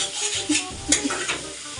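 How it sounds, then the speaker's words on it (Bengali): A utensil scrapes and stirs through shrimp masala in a pan over a loud, steady sizzle, with a few quick clanks. "নাড়তে নাড়তে ভালো করে কষিয়ে নেবো"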